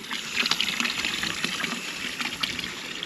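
Water flows and trickles steadily beside a mountain road climbing toward the Fruela Pass, a continuous close splashing wash with no voices over it.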